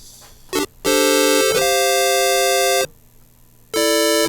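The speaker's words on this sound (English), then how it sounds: "That is my Farfisa organ." A Farfisa organ plays bright, reedy chords held in a few sustained bursts with short gaps between, loud and close, no talking.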